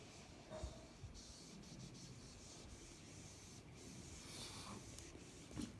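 Faint steady rubbing of a duster wiping writing off a board in a machining lecture, a soft continuous scratchy swish with a few light bumps, no talk.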